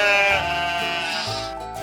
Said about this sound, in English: Bah, the sheep protested.